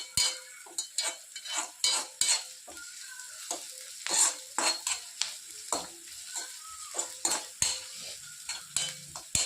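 Green chillies fry for upma in a pan over a raised gas flame, with a spatula scraping and clinking in quick, uneven strokes over a constant soft sizzle, close and fairly loud.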